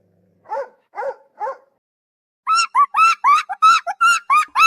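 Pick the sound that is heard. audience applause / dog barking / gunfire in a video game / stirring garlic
dog barking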